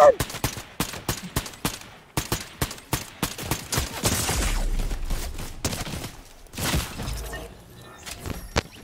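Gunfire in the video game Fortnite: rapid, loud bursts of shots crackle in quick succession, then heavier sustained firing and shattering impacts, with brief gaps between volleys and no talk over it.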